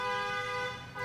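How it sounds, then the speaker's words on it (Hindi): A car horn from an impatient driver behind on a road, heard as one loud, steady blast held for about a second, close by. "उनको हॉर्न ज़्यादा बजाना होता है"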